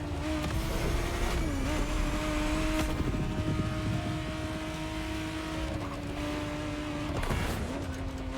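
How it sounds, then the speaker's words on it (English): A 1991 Ferrari 512 TR Testarossa drives in the racing game The Crew Motorfest, its engine holding a loud, steady droning note with brief pitch dips between gears. "the exact model Motorfest has put in your hands is the 1991 re-engineered version of the Testarossa, introduced as the 512 TR"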